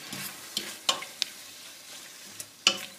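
Sausage rougaille stirred in a pan, a quiet bed of sizzling broken by several sharp scrapes and clicks of the spoon, close and fairly soft, with no talking.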